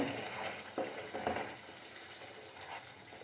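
A thick masala paste sizzles and bubbles gently in hot oil, close by, with a few soft stirring scrapes.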